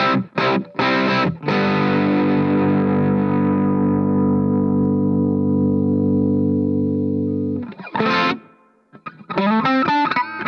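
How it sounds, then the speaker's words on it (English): Electric guitar through a Positive Grid Spark amp set with heavy reverb: a few short stabs, then a long ringing chord that sustains and slowly decays, followed by more brief choppy strums. "Too much reverb on that."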